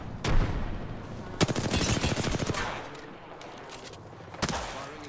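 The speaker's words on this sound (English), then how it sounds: "Firing a smart bullet." Smart bullet gunfire in a video game, loud sharp shots opening into a rapid automatic burst of repeated cracks, then a final blast, under a game voice and player chatter.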